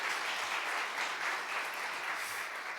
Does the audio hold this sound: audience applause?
yes